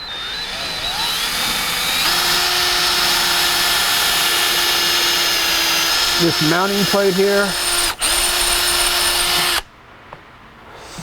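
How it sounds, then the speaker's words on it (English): A power drill with a 1/4 inch bit runs continuously and loudly while boring through a pedal mount on a Ricmotech RS1 racing sim rig, its whine bending in pitch under load before cutting off abruptly, with someone talking briefly over it. "we'll run through there with a 1/4 inch drill bit, and we'll go ahead and run through our pedal mount here as well."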